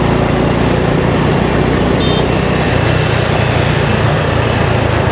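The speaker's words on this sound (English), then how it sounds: "Just got to navigate all this traffic." Dense street traffic in Hanoi heard from inside a car, a loud constant rumble of engines and road noise with a brief faint high tone partway through.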